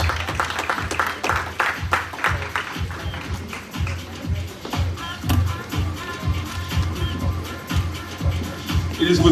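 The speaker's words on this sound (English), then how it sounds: "Give it up, give it up, give it up. Round of applause." An audience at a first-anniversary gathering claps in a loose round of applause, with voices talking over and among the hand claps.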